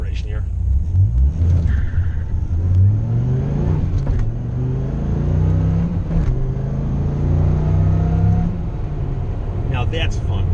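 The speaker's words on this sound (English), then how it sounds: "Dead stop. And we'll do a little bit of acceleration here." A Dodge Viper pulls away from a dead stop, its deep engine rumble climbing in pitch through a rising rev sweep, loud and close, with someone talking over it.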